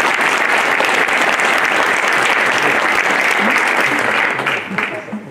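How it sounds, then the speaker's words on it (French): Loud, dense applause from an audience at a mayor's New Year greetings ceremony in Isola, honoring the technical crew who built a yurt; steady clapping that thins slightly at the end, with a voice or two faintly underneath. "je vous demande de les applaudir très fort"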